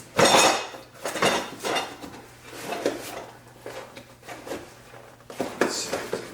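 Metal band clamps for a Billy Boat exhaust on a Dodge Viper are handled and set down, making a series of close metallic clinks and clanks in an uneven rhythm.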